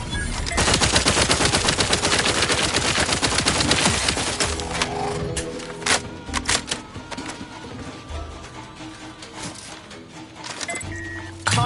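Rapid automatic gunfire in The Outer Worlds 2 rattles loud and close in dense bursts, then breaks into scattered sharp single shots with short pauses between them.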